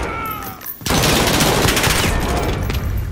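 Loud, dense gunfire fills a Call of Duty Modern Warfare 2v2 skirmish match, with rapid overlapping shots that continue without a break after a quieter opening moment.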